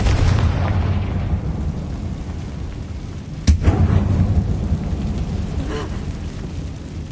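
A Confringo blasting spell in Hogwarts Legacy goes off as one sharp, loud boom partway through, over a steady rumbling game ambience with a faint lingering tail after the blast.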